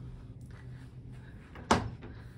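A closet door in a resort hotel room opens with one sharp clack or bump after a quiet stretch of faint room hum and soft handling sounds.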